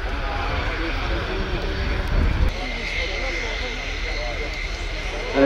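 A Qatar Emiri Air Force F-15QA jet rolls along the runway at an airshow, a broad, steady engine roar with a brief surge midway, heard from a distance.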